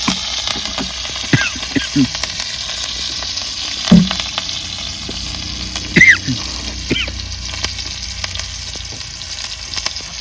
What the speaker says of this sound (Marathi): मग काय आता तेल टाकून घेते या मिरच्या तळायला